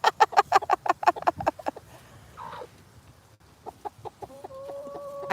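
A pet backyard hen clucks in a quick, loud run of close clucks, then a pause, a brief squawk, and softer scattered clucks with a higher call near the end; no talking.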